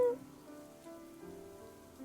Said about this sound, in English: the sound of rainfall hitting the umbrella